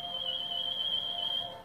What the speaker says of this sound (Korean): 이 아름다운 소리는 노래가 아닌 휘파람이었네요